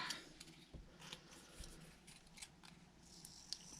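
Scissors trim a cut strip of material for a fireplace mantel, giving a few soft, faint snips spread across a quiet room.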